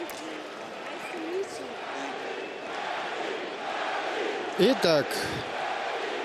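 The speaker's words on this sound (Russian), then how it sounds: "мы слышим рев толпы" Crowd noise roars steadily at the Manny Pacquiao vs Oscar De La Hoya boxing match, with a sustained wash of cheering and a brief chanting swell near the end, while a commentator talks over it.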